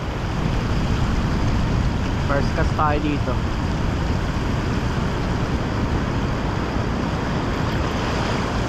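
Surf washes onto a Quirino shoreline during a fishing trip, a loud, constant rumbling roar mixed with wind, with a brief spoken phrase partway through.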